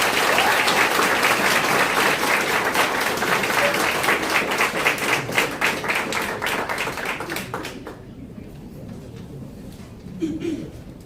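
Audience applause for new Alabama State women's basketball head coach Johnette Hayes at her introductory press conference: dense, loud clapping from a crowd that gradually thins and fades out near the end.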